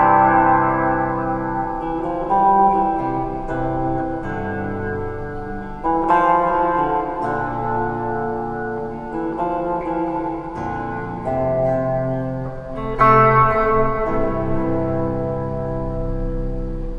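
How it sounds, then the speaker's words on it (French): Sustained, layered chords drenched in heavy reverb and echo from a 1980s reverb unit run through an old 1980s mixing desk, loud and continuous, with lingering tails between phrases; no voices. "pour tester ma table de mixage des années 80, je vais utiliser une reverb des années 80"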